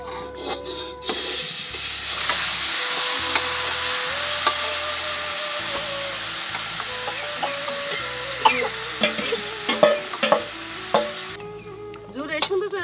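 Biryani is stirred in a pot over a village cookfire, with a strong steady sizzle and hiss and repeated scraping clatter of the spoon growing more frequent toward the end, close and loud.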